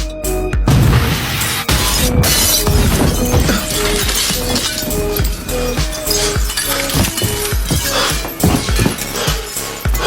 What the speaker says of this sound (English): the glass on the window cracked from pressure